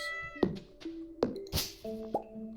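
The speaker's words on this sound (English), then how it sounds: "Say hello to our cat." Stardew Valley farm cat gives a few short game-style meows amid soft plopping interface blips, clear and close with no talking.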